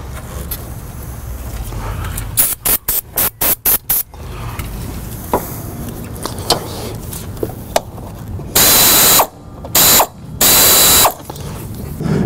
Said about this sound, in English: You always want to use a backup wrench when you're removing any of the lines